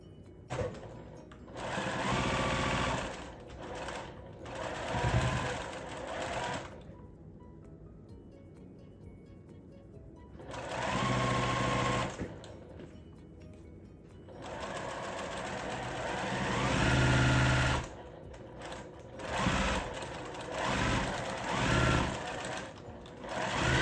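A sewing machine pieces a nine patch quilt block in several bursts of rapid whirring stitching, stopping for brief pauses between seams and running close and clear.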